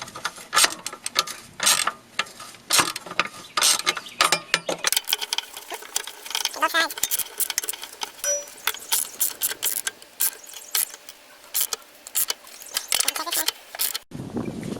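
Motor mount bolts on a Nissan 240SX being tightened through holes in the crossmember during a solid motor mount install, heard as rapid ratchet clicking in bursts, close up and fairly loud, with no voices.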